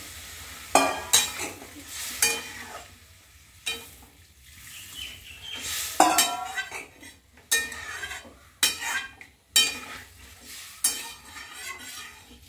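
Chicken curry masala in a pan as water goes in, with a spoon stirring and scraping against the metal in repeated strokes over a soft sizzle, close and moderately loud, no talking.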